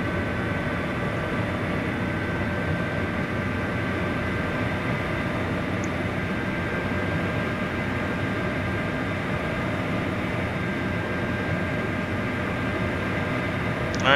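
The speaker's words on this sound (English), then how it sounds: "let's start that right engine. Now we got the fuel and everything going to it." The right jet engine of an aircraft starts in the construction sim Machine World 2, a constant broad roar with steady humming tones layered on top, sustained evenly with no talk.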